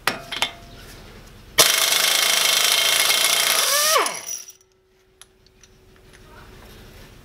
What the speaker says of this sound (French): Écrou de cardan desserré avec la petite Monster Mini et pour un compresseur de 100 litres.